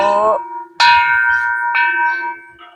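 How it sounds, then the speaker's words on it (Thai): A temple bell at a Thai temple park during a Buddhist Lent merit-making visit rings with two clear metallic strikes, each followed by a long shimmering decay, close and loud. "ระฆังนี่ก็จะดัง"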